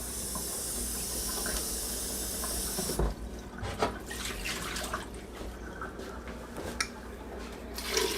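Water is poured into a soup pot of nettles and spinach: a steady rushing stream for about three seconds, then softer splashing and trickling with scattered drips, with no talking.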